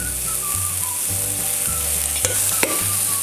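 Celery stems and aromatics sizzle and fry hard in a hot wok as boiling water is poured in. A steady loud crackle runs under low thumps and a couple of sharp clanks near the end.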